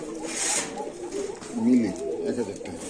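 Pigeons at a bird market cooing nearby in low, throaty rolling calls, mixed with someone talking over them.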